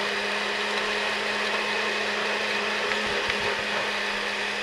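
A blender purees six different kinds of chilies for a mole, running in a steady, loud, continuous whir for the whole stretch with no talk over it.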